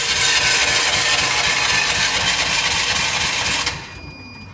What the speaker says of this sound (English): Didn't start on our first crank.